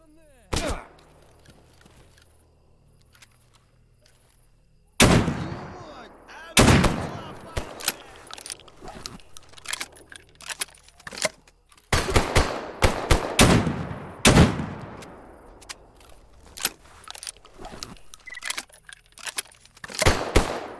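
Gunfire in the modded shooter S.T.A.L.K.E.R. GAMMA: sharp, loud single shots and quick bursts ring out repeatedly after a quiet opening stretch, each crack followed by a brief echoing tail.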